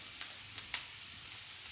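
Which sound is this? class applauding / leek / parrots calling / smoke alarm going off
leek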